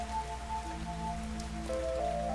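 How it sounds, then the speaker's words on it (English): Rain from the video game Fantasian Neo Dimension falls as a soft, steady hiss. Sustained musical tones play alongside it, and no one speaks. "It was raining."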